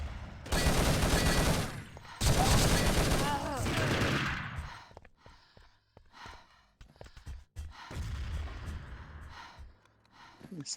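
In the Urban Terror video game, M4 rifle fire bursts out in two loud, dense volleys early on, followed by sparser scattered shots and game noises, with a commentator talking over parts of it.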